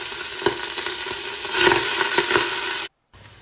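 Shallots sizzle and crackle steadily in hot oil in a saucepan, with a few stirring scrapes, then the sound cuts off briefly near the end.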